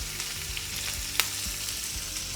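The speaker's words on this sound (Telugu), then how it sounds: "ఇవన్నీ వేసి మంచిగా వేయించాలి ఇందులోనే" Onions, green chilies and curry leaves fry in hot oil in a pan with a steady close sizzle, broken by soft rhythmic stirring scrapes and one sharp clink partway through.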